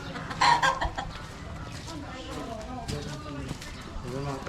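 Chickens cluck and squawk close by, one louder burst early on followed by scattered softer clucks, with a person talking quietly in the background.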